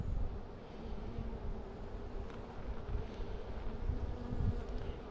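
A colony of honey bees from a transferred swarm drones in a continuous low buzz, close and moderately loud, swelling slightly at times with no talk.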